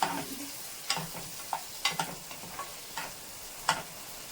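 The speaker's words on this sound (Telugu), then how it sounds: "కొద్దిగా బ్రౌన్ కలర్కి వచ్చేంత వరకు మనం వేయించుకుందాం" Egg frying in a pan until lightly browned, with soft sizzling under a series of sharp clicks and scrapes from stirring or a spatula, quiet and close, no talk.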